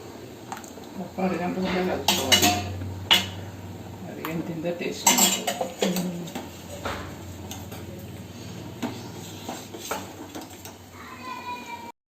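A ladle clanks and scrapes around a pot of Andhra-style moong dal pulusu with amaranth greens, with irregular metallic knocks loud at first and then lighter, and a voice faintly in the background.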